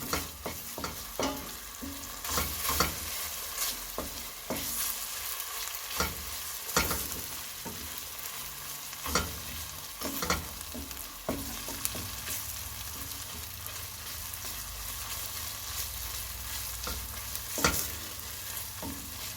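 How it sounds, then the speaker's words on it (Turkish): Tomato paste and red pepper flakes frying in a pan: a steady, soft sizzle throughout with frequent scraping and tapping of a stirring utensil, close and unhurried. "Bir yemek kaşığı pul biber atıyorum. Bunları böyle bir iki dakika kavuruyorum."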